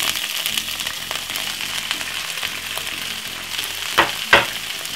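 Vegetables stir-frying in a hot frying pan give a steady close sizzle with light stirring clatter and two sharper scraping knocks near the end, no speech.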